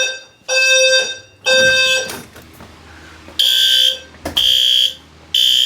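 Loud, shrill electronic fire alarm beeping in a garage during a system test, partly covered with tape, in repeated bursts with short gaps between, close by and harsh, no voices.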